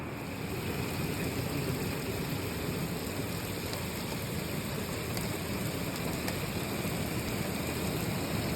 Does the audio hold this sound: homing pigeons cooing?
no